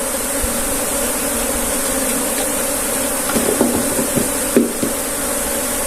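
Honeybees buzz steadily around an opened beehive, a dense, loud, continuous drone with a few faint knocks and taps from the hive work mixed in.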